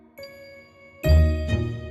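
A phone ringing with an incoming call, heard as a bright electronic jingle of tinkling tones that starts softly and then swells louder with a fuller chime.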